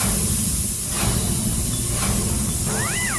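A pressure cooker whistle vents steam as a loud, steady hiss that runs unbroken for a few seconds, with faint whistling tones near the end.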